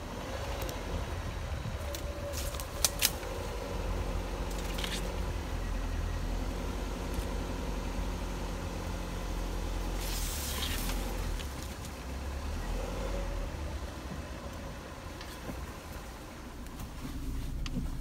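A Dodge Neon with a 2-liter engine driving off-road, a continuous low engine drone with cabin rumble and a few sharp bumps and rattles, steady throughout.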